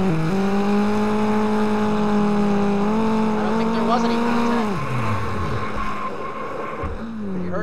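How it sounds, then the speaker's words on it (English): A rallycross race car on the Riverside circuit, round nine of the 2016 NASA RallyCross Challenge, revs its engine up heading into the final corner, a loud steady drone rising in pitch then dropping away, heard under a commentator talking. "You heard him pick the revs up as Mertz heads down into the final corner."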